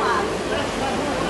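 Floodwater pours into Pampulha airport in Belo Horizonte during widespread flooding, a loud continuous rushing roar that fills the whole moment with steady broadband noise.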